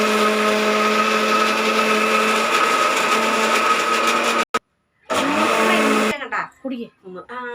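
A mixer grinder whirs loudly and steadily while grinding roasted spices, cuts off briefly, restarts for another burst, then stops as a voice begins talking.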